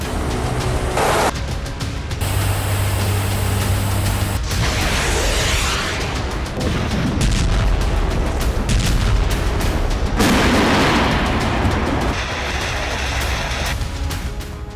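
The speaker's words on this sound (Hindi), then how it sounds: "रूस आर्टिलरी से जमकर तबाही मचा रही है।" Russian artillery and Grad multiple-rocket launcher fire strikes Ukrainian military positions, a dense, continuous roar of booms, blasts and rumbling bursts that stays loud for the whole stretch, with no voices.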